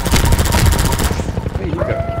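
Rapid gunfire from a player's weapon in Half-Life 2, a dense run of loud shots for about a second before trailing off into game sounds and a rising tone.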